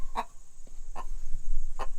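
Hens on a homestead cluck in a few short bursts near a coop, with a faint steady hum and light rustling between calls.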